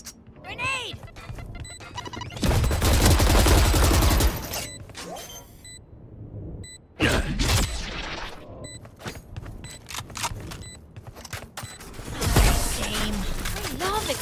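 Grenade blast and bursts of gunfire in the shooter game Valorant, with loud sustained explosive rumbles and sharp crashing hits scattered through, interrupted by brief quiet gaps and clicking game sounds.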